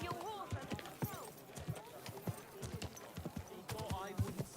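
Horse hooves clip-clop at a steady walking rhythm on a road in the video game Kingdom Come Deliverance 2, close and clear beneath voices talking.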